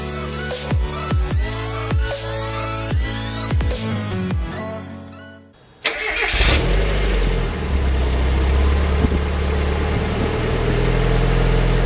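Music plays for several seconds and then cuts out, followed by a Mazda Miata engine fitted with a new starter cranking briefly and catching into a steady, close, moderately loud idle.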